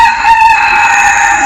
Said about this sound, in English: This rooster, I see him.